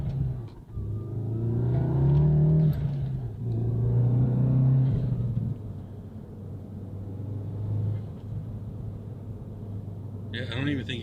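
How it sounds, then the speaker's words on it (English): Exhaust note heard from inside a car with a resonator delete and EQT stage 1 burble tune, a steady low rumble rising briefly under acceleration, fairly quiet and close to stock, with a person talking over it. "I'm trying to see if I could get any in-car audio of what it sounds like, but as you can hear, sounds stock."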